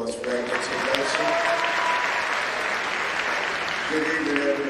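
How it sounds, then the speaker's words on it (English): Audience applause at a school graduation ceremony for the class of 2022 at a performing arts school, steady dense clapping filling the hall throughout, with a few voices and cheers mixed in. "another round of applause for that introduction"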